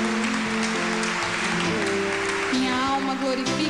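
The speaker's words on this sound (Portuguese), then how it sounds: "Vamos aplaudir a palavra do Senhor" A church congregation at a Catholic Mass applauds the scripture reading. The steady clapping blends with sustained singing voices and musical tones that carry through the whole passage.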